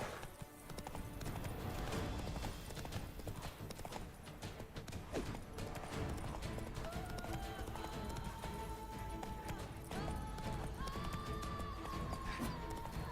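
Roach, a horse in The Witcher 3: Blood and Wine, gallops with loud, steady hoof clip-clop running throughout, with a brief whinny and game music rising near the end.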